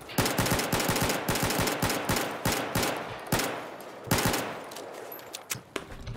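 Rapid bursts of Battlefield 4 gunfire shooting out car windows, loud and close, with sharp shots cracking in quick rhythmic volleys and brief pauses between strings.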